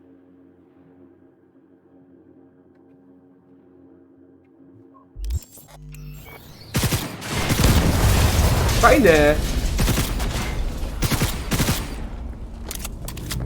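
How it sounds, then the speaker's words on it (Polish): A smart gun fires explosive rounds in Cyberpunk 2077, a dense burst of rapid shots and blasts that starts after a quiet hum, loud and sustained, with a brief spoken exclamation in the middle. "strzela pociskami wybuchowymi"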